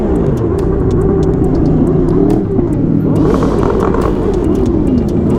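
A Harley motorcycle engine revs loudly and steadily up close, its exhaust crackling with popping bursts through the ride out on the town.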